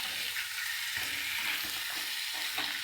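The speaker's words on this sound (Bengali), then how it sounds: "এই মাংস রান্না করছে।" Meat frying in a pan with ginger, garlic, cumin and onion, giving a steady close sizzle and crackle throughout with occasional stirring scrapes, and no one talking.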